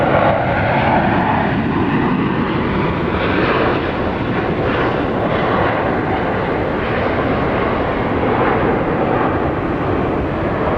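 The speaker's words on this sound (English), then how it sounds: "Flight 3944, just touching down from San Diego, California, 737-800" Boeing 737-800 airliner from San Diego touching down at Dallas Love Field, a steady, loud broadband engine roar with rushing noise that holds throughout without a break, no voices.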